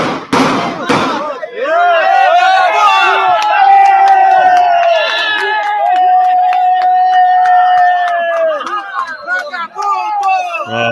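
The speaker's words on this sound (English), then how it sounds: "all the people cheering" Crowd of people cheering and shouting together in a loud, close burst, with sharp bangs at the start and individual voices calling out throughout.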